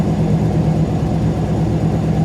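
An engine idles a little fast at around 1100 RPM, a loud, steady low rumble with an even pulsing throb and no change in pace.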